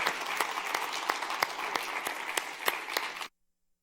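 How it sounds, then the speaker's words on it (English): Audience at a plant-forward culinary summit applauds panelists, a steady burst of many hands clapping that fills the room for about three seconds, then cuts off abruptly to silence. "Round of applause for our panelists."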